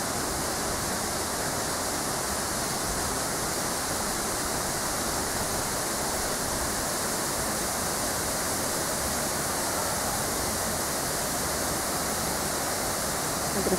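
Waterfall in a wooded river gorge on a restored estate, a steady, dense roar of falling water that stays constant and fills the whole stretch with no other sounds.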